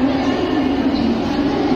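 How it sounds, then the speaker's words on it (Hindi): A Mumbai local train stands at Chhatrapati Shivaji Maharaj Terminus, about to leave for Kalyan, giving off a loud, steady mechanical hum and rumble that fills the busy station. "ये लोकल ट्रेन खड़ी है अभी अभी जाने वाली है कल्याण की तरफ"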